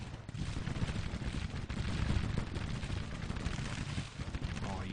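Massed Civil War musket fire in the strategy game Grand Tactician: The Civil War, a dense, continuous rumble of overlapping volleys with no break.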